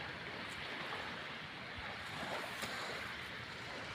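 Sea waves at a seaside shore wash in as a soft, continuous surf hiss with gentle swells, faint and somewhat distant, mixed with light wind and no speech.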